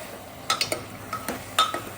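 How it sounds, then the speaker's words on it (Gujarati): A utensil stirring vegetables into oil in a cooking pan, making a handful of light metallic clinks and scrapes at an irregular pace. The sound is close and fairly soft, with no talk. "શાકને પહેલાં તેલમાં જ મિક્સ કરી લઈએ."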